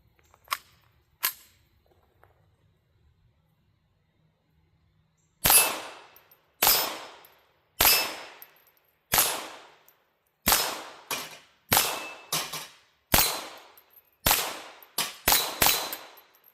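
Series of sharp .22LR rifle shots from a Ruger 10/22 Charger fired at steel targets outdoors, two early shots then a steady run of about twelve loud cracks with brief ringing tails, no talking.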